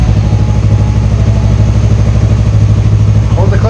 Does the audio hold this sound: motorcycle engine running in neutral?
yes